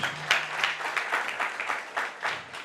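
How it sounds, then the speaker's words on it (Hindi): Audience applause at a community gathering where children, adults, women, elders and monks sit together; a moderately loud round of clapping with distinct, fairly regular claps and no talking. "हम सब आपके लिए ताली बजाना चाहते हैं"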